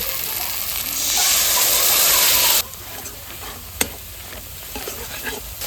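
Yogurt poured into hot oil and spices in a pan for dui fulkopi hisses in a loud, bright sizzle, then settles to a softer bubbling fry with scattered stirring clicks and one sharp clack.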